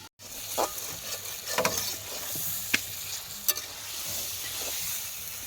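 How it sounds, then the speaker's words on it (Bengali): Covered food sizzles and fries in a pan on a stove at an outdoor picnic in the Sundarbans, a steady low crackle punctuated by a few sharp clinks and scrapes of stirring. "এরকম ঢেকে ঢেকে কষাচ্ছি আর কি"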